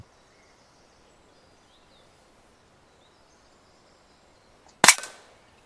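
A single sharp air rifle shot cracks out near the end, aimed at a squirrel outdoors, following a long quiet stretch of faint ambient hiss and distant birds.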